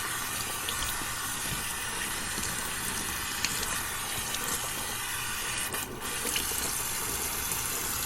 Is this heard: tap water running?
yes